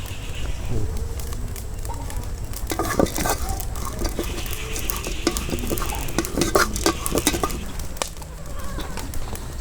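Cinnamon and cloves fry in a pan for a village-style Gaundampalayam chicken kulambu, giving a steady close sizzle with clinks of a spoon stirring against the metal pan and faint birdsong in the background.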